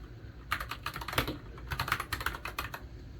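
Fast typing on a BOYI TK96 full-size mechanical keyboard, with close, crisp clusters of clacking keystrokes in quick irregular bursts and brief pauses between runs.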